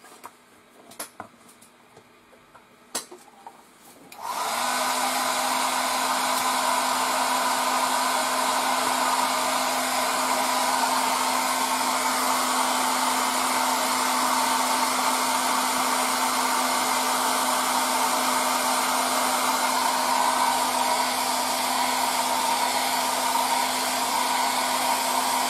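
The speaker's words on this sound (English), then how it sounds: "Now let's go again with the air dryer." A hair dryer drying airbrushed paint on a 1:72 scale model clicks on after a few faint taps and then runs in a loud, steady whirring drone without pause for the rest of the time.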